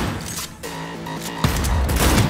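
A rapid burst of loud gunfire from Cyberpunk 2077 followed by a heavier blast as the gun explodes, sharp and close, with layered explosive cracks.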